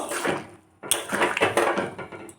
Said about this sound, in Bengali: পনির দিয়ে চানা এর মধ্যে গরম করে রাখা কসুরি মেথি একটু গুড়িয়ে নিয়েছি বিট লবণ আর গরম মশলা দিয়ে দিয়ে দেব ভালো করে নেড়ে নেব